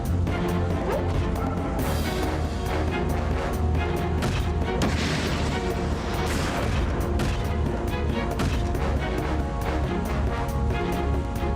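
Missile impacts in the Front Mission 4 mecha tactics game, a dense run of booming blasts and crashing hits that stays loud and continuous throughout, with a brighter burst of debris in the middle.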